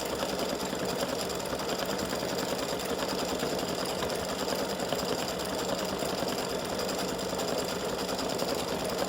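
An embroidery machine stitches the underlay layer of four-leaf clover earrings, a steady, close, rapid needle chatter that runs continuously without pause.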